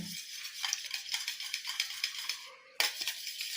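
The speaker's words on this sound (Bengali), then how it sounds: "আমি ডিমগুলোকে ফাটিয়ে বাটির ভেতরে এবার গুলিয়ে নিচ্ছি" Cracked eggs whisked briskly in a bowl, a quick run of rhythmic scraping and tapping strokes, close and clear, with a brief pause before the beating resumes.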